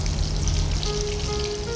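Chicken meatballs sizzle steadily in hot oil in a pan, a continuous dense crackle that holds at an even level throughout, with no talk over it.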